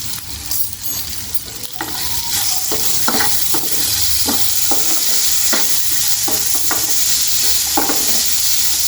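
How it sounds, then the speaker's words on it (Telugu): Garlic and salt frying in a pan for tomato chutney, a steady close sizzle with repeated stirring scrapes and clinks of a spoon against the pan throughout, no talking. "కాస్త ఎల్లిపాయలండి. ఇది కొంచెం ఫ్రై చేద్దాం."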